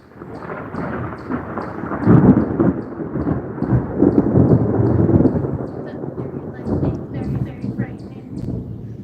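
Thunder in an approaching outdoor storm: a long, loud rolling rumble that swells and fades over several seconds, with voices talking faintly underneath.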